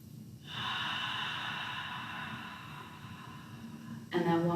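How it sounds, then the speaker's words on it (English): Steady breathing through the mouth in a yoga session, one long airy breath lasting several seconds, close and moderately loud, then a brief sharper breathy burst at the end. "So we'll start with that ha sound. So it's inhale, and then exhale."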